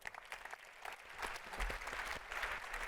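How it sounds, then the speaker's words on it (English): Brief, faint audience applause in a conference hall greets a speaker coming on stage at an event on circular solutions for nature and the economy, with scattered clapping rising in the second half. "Please give him a round of applause."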